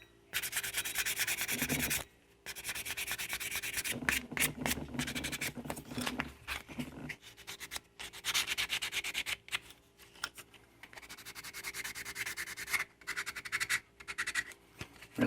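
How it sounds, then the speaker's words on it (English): Putty on a 1/4 scale Aqua Man figure is sanded in close, scratchy rubbing strokes, coming in bursts of varying length separated by short pauses. "I'm going to sand it just a hair"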